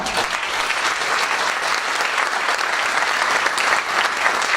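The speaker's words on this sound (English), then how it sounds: "I'd just like to have a round of applause for Fred." Steady, dense applause from an audience at a charity education fundraiser dinner, loud and continuous throughout with no gaps.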